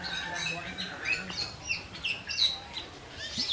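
Birds chirp and tweet in a mini zoo in Bali, with bright, repeated calls overlapping one another over a steady background bustle.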